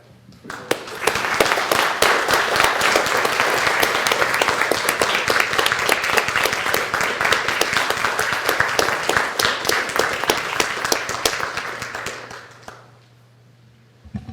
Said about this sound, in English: let's stand up and give these guys a round of applause